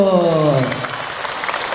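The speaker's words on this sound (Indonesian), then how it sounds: "tepuk tangan buat Abi, Ibu" Mosque congregation at a Ramadan talk starts clapping for the preacher right after a voice trails off; the brief, moderately loud patter of hands fills the rest of the moment.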